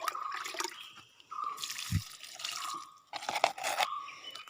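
Liquid fertilizer is poured from a cup onto the soil at the base of a rose plant in two gurgling bursts separated by a short pause, close and fairly soft.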